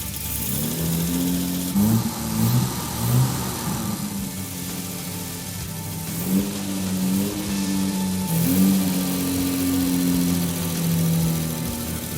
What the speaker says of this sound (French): entendre rugir ce 6 cylindres en ligne d'anthologie